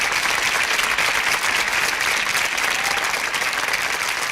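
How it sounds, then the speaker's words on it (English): Steady, dense applause from an audience after a recorded song ends, sustained clapping at even loudness throughout with no voices on top. "We will listen to the last 30 seconds of clapping."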